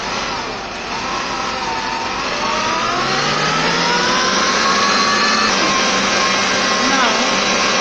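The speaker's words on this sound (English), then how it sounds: "stop the mixer and then scrape down the sides of the pan." Electric mixer beating doughnut dough with butter added, a loud steady whirring motor drone that rises slightly in pitch as it runs continuously, close to the microphone.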